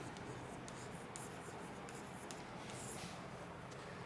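Faint chalk or marker strokes on a classroom board, a quiet, steady scratching of short repeated strokes with no voice over it.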